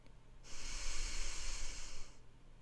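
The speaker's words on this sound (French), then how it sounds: "on vient boucher la narine gauche et on souffle par la narine droite" A single forceful exhale through the right nostril during a breathing exercise, a close, airy hiss lasting nearly two seconds before cutting off.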